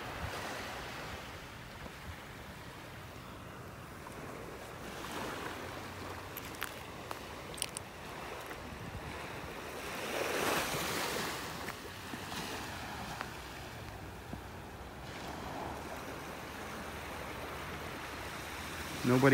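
Surf washing onto a beach in North Naples, Florida, a steady wash of breaking waves with swells that rise and fall, heard alongside light wind and footsteps on a morning walk.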